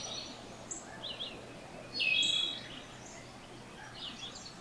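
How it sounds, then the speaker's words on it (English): Soft bird chirps scattered over a quiet outdoor background, with one brighter, louder call in the middle and fainter tweets around it. "And listen to the birds singing."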